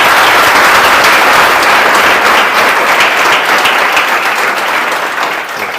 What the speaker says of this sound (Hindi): एक बार जोरदार ताली बजा दीजिए न्यूलाइट के सारे टीचर्स के लिए।